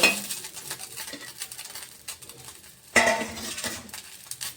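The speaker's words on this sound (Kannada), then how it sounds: "ಈಗ ಈ ಮೆಣಸಿನ್ಕಾಯಿ ಫ್ರೈ ಆಗೈತೆ ರೀ ಇದನ್ನು ತೆಗಿತೀನಿ ರೀ" Green chillies frying in a pan, heard as a soft crackle broken by scattered clinks and scrapes of a utensil against metal, with one sharper clatter midway.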